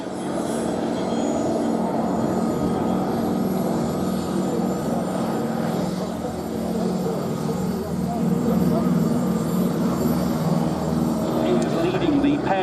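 Aerobatic aircraft approach head-on at the Duxford air festival, a continuous engine drone that holds steady and swells slightly toward the end, while an announcer talks over it.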